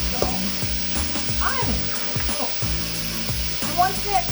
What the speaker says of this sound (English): I just want to get it browned up a little bit to begin with.